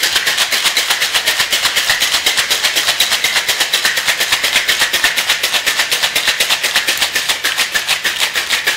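A Tom Collins cocktail is shaken hard in a cocktail shaker, with ice rattling in fast, even pulses that carry on without a break, loud and close.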